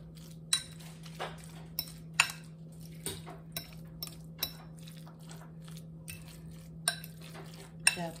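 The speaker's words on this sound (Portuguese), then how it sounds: "E vamos misturar bem." A spoon stirring avocado salad in a bowl, producing irregular light clinks and scrapes of cutlery against the dish at close range, with quiet pauses between strokes.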